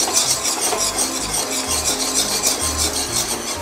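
Sweet corn mixed with black pepper and chaat masala is stirred in a pan, a continuous close scraping and rubbing of a spoon against the metal that keeps an even rhythm for a few seconds, with no voices.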